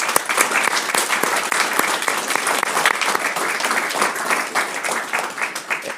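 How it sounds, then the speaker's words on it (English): An audience at a county commission candidate forum applauds in a full, sustained burst of many hands clapping evenly for six seconds with no talking. "I hope our audience members will give our candidates a big round of applause,"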